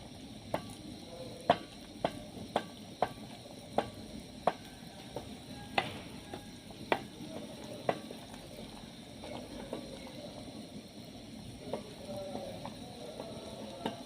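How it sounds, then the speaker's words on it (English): Caramel for popcorn, with vanilla essence added, being stirred until thick: a steady soft bubbling simmer, with a run of sharp, evenly spaced spoon taps against the pot early on that thins to occasional clicks. "I'm going to stir this up until it is thick"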